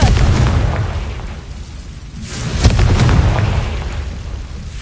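A Confringo spell explosion in Hogwarts Legacy, a loud, deep rumbling burst that swells, dips, then surges again with a second crackling blast, sustained and close.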